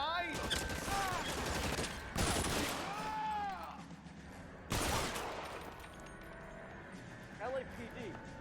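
Shootout gunfire in the video game L.A. Noire: two loud, sharp bursts of shots cut through steady background noise, with voices talking over the scene.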